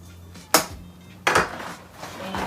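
Dry boxed lasagna noodles slide into a metal pot on the stove, giving two sharp clattering impacts a moment apart, close and clear over a quiet kitchen background.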